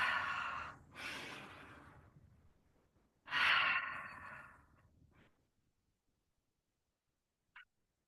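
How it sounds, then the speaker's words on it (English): Deep breaths during a gentle stretching exercise: two long audible inhale-exhale cycles close to the microphone, followed by quiet and a brief faint sound. "Inhale, really stretching out."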